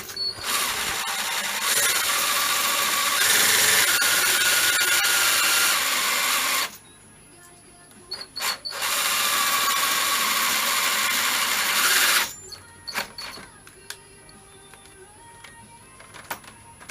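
A Makita cordless drill fitted with a 9.5mm bit bores into a motorcycle handlebar on a GSXR 1000 streetfighter. It gives two long, loud, sustained drilling bursts with a short pause between them, followed by scattered clicks and handling noises.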